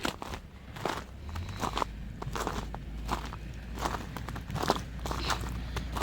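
Footsteps crunch over icy snow in a steady walking rhythm, close and fairly loud, each step giving a crisp crackling crunch over a low background hum.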